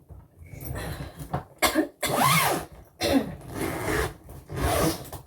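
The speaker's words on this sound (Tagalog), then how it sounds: "meron pa tayong ubo at sipon konti" Several hoarse coughs from a person with a cough and a cold, coming in a few close bursts with short breaths and rustling between them.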